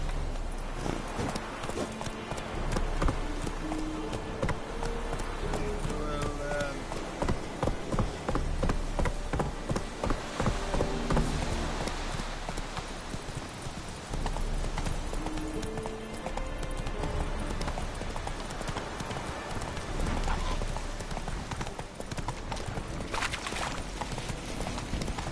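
Galloping horse hooves in The Witcher video game, a steady, rapid clip-clop that runs throughout at close range over continuous game music.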